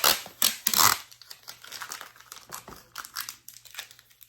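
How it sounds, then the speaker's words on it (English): Adhesive tape being peeled off the back of a first-generation Apple iPad during a battery replacement, heard as close crinkling and tearing bursts. The first second is loud, followed by softer irregular crackles. "I can peel this tape off the back"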